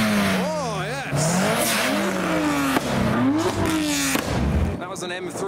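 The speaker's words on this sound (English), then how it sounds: "That was an M3 revving in the distance." A BMW M3 engine revs repeatedly at a huge JDM car show, its pitch climbing and falling in quick sweeps over a busy outdoor background where voices can be heard.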